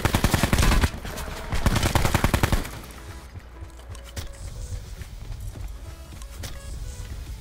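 Loud bursts of automatic gunfire in the video game Call of Duty Blackout, two rapid rattling volleys in the first seconds, then quieter scattered shots and clicks over a low background rumble.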